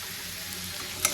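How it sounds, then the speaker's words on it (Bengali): Ground turmeric, red chilli and coriander powder frying in oil in a pan for a Bengali banana-flower dish, a short steady close sizzle with one small tap at the end. "মশলাটা একটু ভেজে নেব।"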